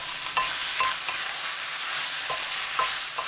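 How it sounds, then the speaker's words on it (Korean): Sausages, onion and paprika stir-fry in a pan with sauce and a little water, giving a continuous hiss broken by light spatula scrapes at irregular intervals, with no voices. "파프리카 넣고 살짝 뒤적거리고 양념장과 물 2스푼 넣어서 1분 볶아주세요."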